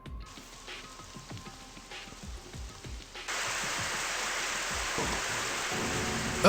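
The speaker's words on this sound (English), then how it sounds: "Is it raining inside or something?" Steady hissing rain from indoor sprinklers in the video game Super Danganronpa Another 2 begins quietly, then swells abruptly into a dense, loud downpour of spray that continues evenly.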